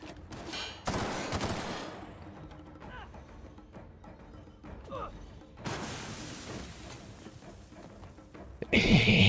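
Enemy gunfire in The Outer Worlds, with short bursts of rapid shots separated by quieter gaps and a sharp loud burst near the end, mixed with faint game effects.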